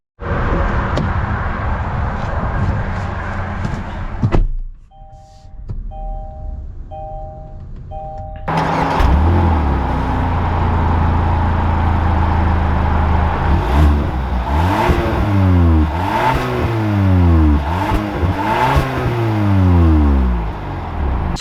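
A 2021 Kia K5 EX sedan drives along, its engine humming and rising with acceleration, joined by a brief chime and steady road noise for a long, loud stretch.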